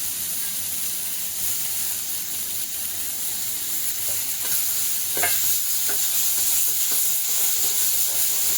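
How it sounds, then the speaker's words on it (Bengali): Chopped tomatoes fry with ginger and garlic in a hot pan, giving a constant close sizzle and hiss, with spatula scrapes and stirring knocks growing more frequent toward the end. "একটু ভাজা ভাজা করলাম"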